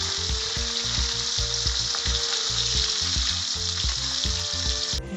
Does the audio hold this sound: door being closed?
no